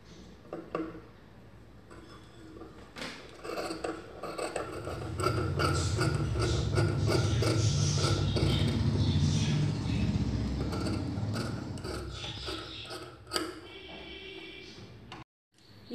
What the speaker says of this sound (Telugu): మిషన్ మీద ఇలా కుట్టు వేసుకోవచ్చు